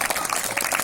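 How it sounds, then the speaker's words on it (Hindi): A crowd claps together in a dense, steady burst of applause at a gathering, fairly loud and continuous throughout. "ताली जरूर बजाएंगे"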